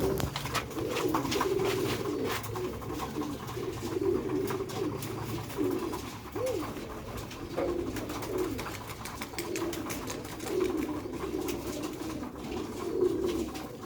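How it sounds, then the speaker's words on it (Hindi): Pigeons coo steadily and softly in a loft or rooftop coop for Pakistani kabootar pigeons, with layered overlapping calls throughout over a low background hum. "रिजल्ट वाला कबूतर है।"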